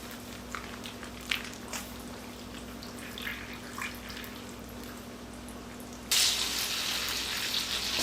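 Blood seasoned with salt and pepper sizzles in a hot pan, a quiet steady frying hiss broken by a few soft clicks and pops, then it swells into a louder, brighter sizzle near the end.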